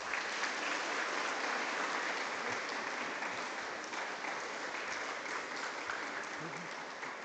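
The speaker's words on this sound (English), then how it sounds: "Can we have a round of applause, please?" Sustained applause from an audience at an education awards ceremony, steady and dense for the whole stretch with a faint murmur of voices underneath.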